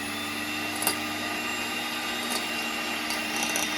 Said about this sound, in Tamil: இன்னைக்கு பிளெண்டர் இது 1 ஸ்பீடில் போட்டு பிளெண்ட் பண்ணிக்கணும்.